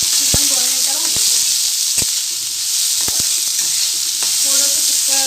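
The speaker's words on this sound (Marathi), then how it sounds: "त्यानंतर ही आपण साधी मिरची ती पण 2 मिनिटं भाजून घ्यायची" Green chillies sizzle steadily in a hot pan for a fried chilli potato dish, a dense continuous frying hiss with a few sharp clicks and knocks from stirring, no voices.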